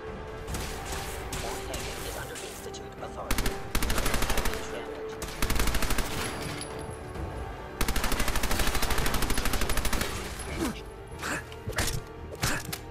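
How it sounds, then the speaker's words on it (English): An armor piercing machine gun fires in bursts in Fallout 4, long loud rapid strings of shots separated by short pauses, with other combat clatter underneath and no talk. "Armor piercing machine gun."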